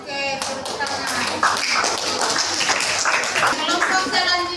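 Classroom students clapping after a group presentation, uneven close hand claps and taps with some voices mixed in among them.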